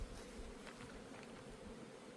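Honeybees buzz around a beehive as hive supers are added, a faint, steady insect drone with no talking.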